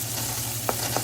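Chillies fry in a hot pan with a steady, close sizzle, broken near the end by two short scrapes of stirring.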